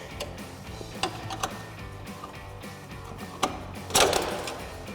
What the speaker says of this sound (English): I'm gonna take a flathead screwdriver to pop out the clips.